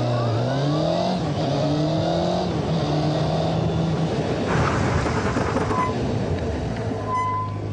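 A Honda motorcycle accelerates hard on a driving school track during an ABS training day, engine pitch climbing and dropping through several gear shifts, loud and steady with wind noise, no speech.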